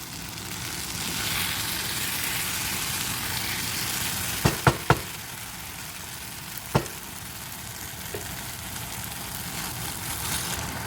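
Chicken being browned in a pan with a steady, close frying sizzle throughout, broken by a few sharp clinks of a spatula or utensil against the pan.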